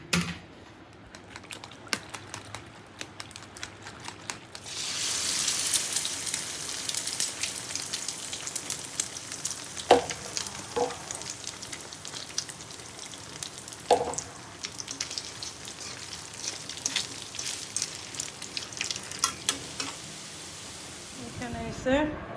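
Egg with onion and green chili frying in a pan for a sandwich: a steady broadband sizzle swells in after a few quiet seconds and keeps going, with a few sharp utensil clicks along the way.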